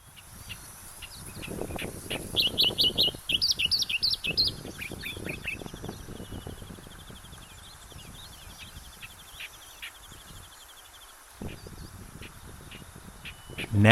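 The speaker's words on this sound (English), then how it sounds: "And this is the Australian reed warbler." An Australian reed warbler sings a rich burst of rapid, varied chirps and warbles in the wetland grassland of Pitt Town Nature Reserve near Sydney, followed by quieter scattered notes over a soft insect background.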